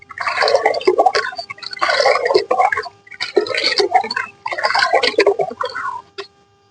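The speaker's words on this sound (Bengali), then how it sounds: "এরপরে জলটাকে খুব ভালোভাবে মিশিয়ে নিতে হবে।" Water is mixed with humic acid in about two litres of liquid, sloshing and swirling in four rhythmic bursts of roughly equal length, close and fairly loud, then falling quiet.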